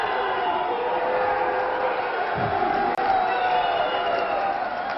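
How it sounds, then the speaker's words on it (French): A wrestling crowd boos steadily as a wrestler leaves the ring, a dense, sustained roar of voices filling the hall, with a brief dip near the middle. "Werner est en train de sortir sous les huées du public"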